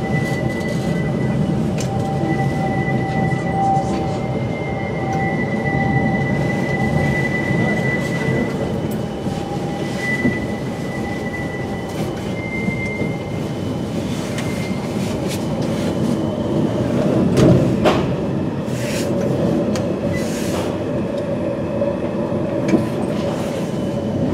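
A Birmingham tram runs near New Street Station, giving a steady loud rolling rumble with faint tonal squeals and a brief louder clatter partway through.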